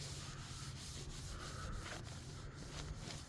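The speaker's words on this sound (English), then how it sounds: "I think I will wipe it off with a little bit of alcohol" A rag soaked in plain rubbing alcohol wiping down rusty metal, making a continuous, close, faint rubbing and scrubbing sound with short repeated strokes and no talk.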